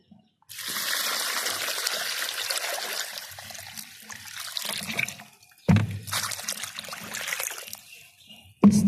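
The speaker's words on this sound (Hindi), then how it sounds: "ये पानी आप इस तरह बाल्टी ले लें या कोई बर्तन हो आपके पास तो उसकी मदद से पानी" Water from a bucket is poured onto a freshly planted moringa graft, a steady splashing, trickling stream that runs for several seconds, stops, then resumes after a brief thud.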